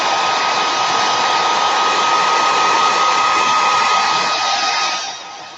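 A hair dryer runs steadily at close range, drying a craft project in a craft room; the loud, even airflow whine holds for several seconds before tapering slightly at the end. No one speaks.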